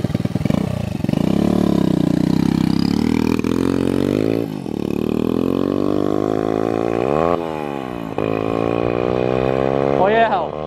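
A turbocharged Loncin motorcycle engine revs hard through several rising and falling throttle sweeps with a whooshing turbo note, loud and close, ending in a sharp blip.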